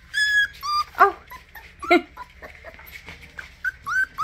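Puppies whimper and yip in high, wavering cries, several short squeals close by in quick succession, with a brief exclaimed voice.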